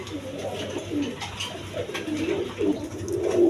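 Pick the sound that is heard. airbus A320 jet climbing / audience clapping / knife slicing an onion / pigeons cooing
pigeons cooing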